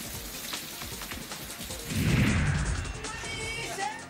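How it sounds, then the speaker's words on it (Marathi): Unseasonal rain driven by strong wind: a steady rushing downpour with a heavier gust-like swell near the middle, loud and continuous, with no one speaking. "पुसद आणि आजूबाजूच्या परिसरात सोसाट्याच्या वाऱ्यासह अवकाळी पावसानं हजेरी लावली."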